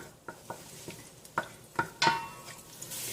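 Garlic sautéing in a pan, a series of spoon scrapes and clinks against the pan over a soft background sizzle, close and moderately loud.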